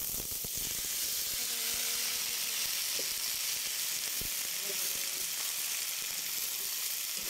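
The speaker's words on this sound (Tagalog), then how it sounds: "Kaya dapat, lutuin muna natin sa mantika para hindi po siya mangitim." Food frying in cooking oil, a dense, steady bright sizzle that runs throughout, with a few faint clinks and soft stirring sounds underneath and no voices.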